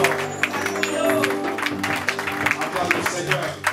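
A church congregation claps and cheers to acclaim the Lord during a service in Leeds, steady applause and voices mingling with a preacher's amplified speech and background music.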